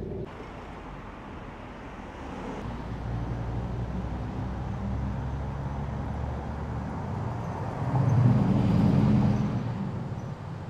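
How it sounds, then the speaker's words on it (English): Steady low rumble of road traffic in Sheridan, Wyoming, vehicles passing at a distance with a louder swell near the end; no talking. "You'll have to apologize for the road noise"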